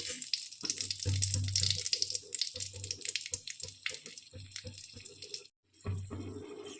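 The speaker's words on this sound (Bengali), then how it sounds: "এবার দেখুন কড়ার মধ্যে আমি একটা শুকনো লঙ্কা ফোড়ন দিয়ে দেবো" Dry red chilli tempering in hot oil in a kadai gives a steady, bright sizzle with soft clinks and bumps, briefly dropping out near the end before resuming.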